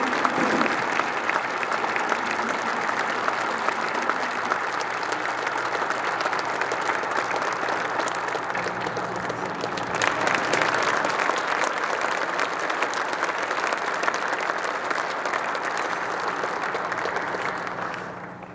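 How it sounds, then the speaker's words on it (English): Sustained applause from a large audience at a town awards event, steady clapping that continues for many seconds before tapering slightly at the end. "Please join me in a round of applause for our Light of PV Award winners, Ann and Bob Wilson."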